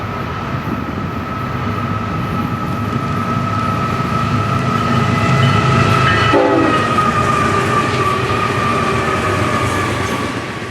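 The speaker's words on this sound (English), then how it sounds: "we're waiting on a northbound rock train, train 292" Loud rumbling northbound freight rock train passing close by near Fort Lauderdale, Florida, with steady rolling noise, and a sustained horn tone blaring throughout.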